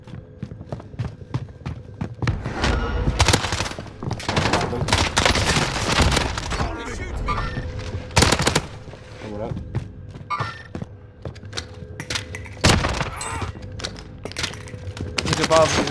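Rapid gunfire bursts in Call of Duty: Vanguard Warzone on Rebirth Island, loud overlapping volleys and single shots in irregular clusters, with players talking over the shooting.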